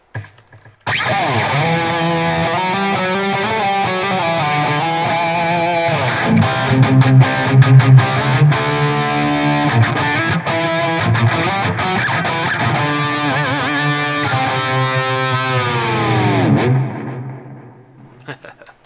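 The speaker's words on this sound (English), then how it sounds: "a parallel quarter note delay and a parallel dotted eighth note delay on this preset" Distorted electric guitar through an FM3 Plexi 50W 6550 amp preset, playing a sustained melodic line with parallel quarter-note and dotted-eighth delay echoes trailing each note, then ringing out and fading at the end.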